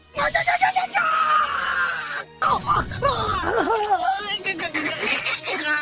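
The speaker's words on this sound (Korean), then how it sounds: "눈 뜨자마자 비명을 질러대다니" A person wakes screaming in a cartoon torture scene with loud, strained, wavering cries and groans that break off briefly and then resume in shaky bursts.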